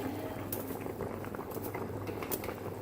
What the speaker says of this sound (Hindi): पानी पक चुका है हमारा, अब हम इसके अंदर चावल ऐड करेंगे।